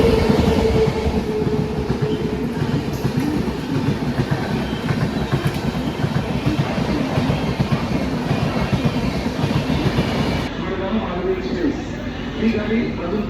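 A train rumbles with rhythmic clickety-clack at Thane railway station on a foggy morning, loud and close with a dense low rolling roar, then the sound thins near the end; voices are faintly mixed into the station noise.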